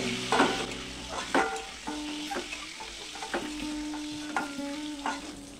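Eggs, seasoned with salt and turmeric, fry in hot oil with a crackling close sizzle. Repeated clattering stirs and pan knocks come at irregular intervals, and no one speaks.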